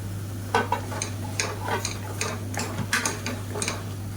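A ground coconut mixture is stirred and sautéed in a pan, giving repeated scraping ticks of a spoon against the pan at a steady rhythm over a faint sizzle and a low steady hum, close and fairly quiet.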